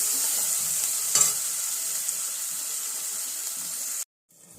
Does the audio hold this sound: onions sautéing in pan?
yes